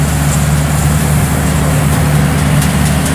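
Engine of a homemade Vietnamese rice harvester running, a steady low mechanical hum with a constant drone and faint clicks, close and unbroken, no talk.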